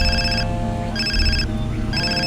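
Telephone in a video game ringing in repeated electronic trills, short bursts of bright ringing separated by brief gaps, heard over a low, steady background hum and game soundtrack.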